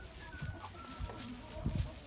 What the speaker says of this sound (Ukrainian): За 5 місяців наші лівінські півники виростають ось так.